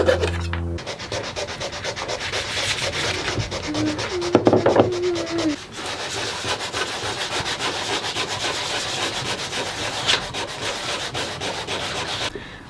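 Continuous rubbing and sanding on a wooden fish-shaped pencil holder, a steady close scratchy friction that lasts throughout with a brief squeaky scrape partway through.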